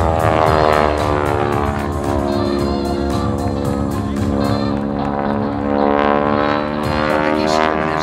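A Boeing Stearman biplane flown in aerobatics at the Aerospace Valley Airshow, its loud, steady radial-engine and propeller drone rising and falling slightly in pitch as it maneuvers nearby.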